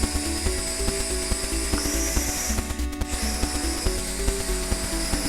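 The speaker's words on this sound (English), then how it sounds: "Here's a thrust test with the camera on." A small BOJIANG S1 quadcopter drone with its camera fitted runs a thrust test, its motors giving a loud, steady high whine with a rattling buzz underneath, close by and alone.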